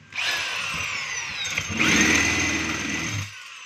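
A DeWalt D25032 rotary hammer runs in drill mode with no load, giving a close, loud motor whine that spins up, shifts pitch partway through, then winds down and stops.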